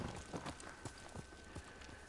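Horse hooves clip-clop in a steady trotting rhythm in Ghost of Tsushima, a series of distinct close thuds over a low background hum, with no voices.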